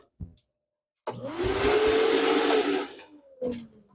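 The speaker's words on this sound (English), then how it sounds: "Vacuum is restored to workfulness." A vacuum cleaner in a workshop starts up with a sudden roar, runs as a loud whine with a steady tone for about two seconds, then winds down, with short bumps before and after.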